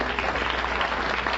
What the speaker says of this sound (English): plumbers always get applause here.